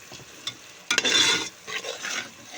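Ground paste stirred and sautéed in plenty of oil in a pan, with spoon scrapes and bursts of sizzling frying, louder in the middle then easing, no talking.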